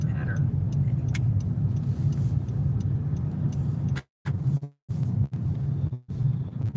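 A car drives along the New Orleans lakefront, its engine and road noise forming a steady low rumble with a few brief dropouts partway through and faint ticking above.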